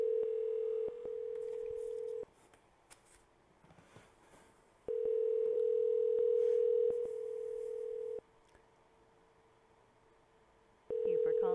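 A telephone dial tone hums in long steady stretches, cutting off into quiet gaps and returning while a number is dialed for a tech support call, with a faint voice in the pauses.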